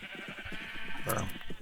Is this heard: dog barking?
no